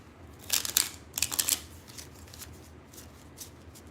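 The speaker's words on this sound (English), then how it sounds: "I'm shuffling the cars, getting ready to go" Tarot cards being shuffled by hand, with two quick bursts of riffling and fluttering followed by softer scattered shuffling, close up and with no voices.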